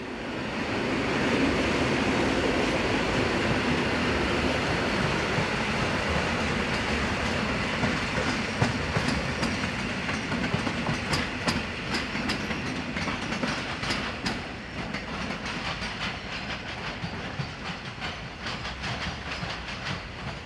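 A regional electric train unit pulls in on a service from Katowice, Poland: a steady, loud rumble of wheels and motors with rhythmic clicks over rail joints toward the end, no voices.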